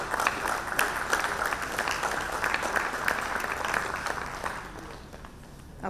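Applause from the audience at an annual general meeting of a business chamber fills the room as a steady, moderately loud wash of clapping that gradually tapers off toward the end.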